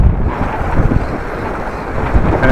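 Very heavy wind buffeting a cyclist's microphone on a bike ride, a loud, continuous low roar with gusty swells and no other clear sounds.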